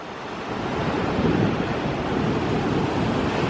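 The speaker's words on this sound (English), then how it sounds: "it's pretty windy and gusty out here today" Strong, gusty wind at Freeman Park beach, Carolina Beach, roars across the microphone in a steady broadband rush, with crashing ocean surf blended underneath and no voices.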